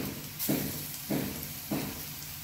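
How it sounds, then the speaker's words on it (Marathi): Chopped onion fries in oil tempered with cumin and mustard seeds in a kadhai, a soft steady sizzle with three brief surges as it is stirred, close and quiet with no talking. "आता आपण त्यात कापून घेतलेला कांदा घालून व्यवस्थित परतून घेऊया"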